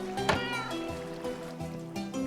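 A Minecraft cat gives a brief meow near the start, standing out over looping background game music that carries on steadily to the end.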